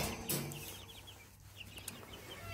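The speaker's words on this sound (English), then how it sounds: "Here are our baby chickens." Baby chickens, including a barred rock chick, making soft chirps and light clucks close by, a faint scattered chorus of peeps over quiet background noise.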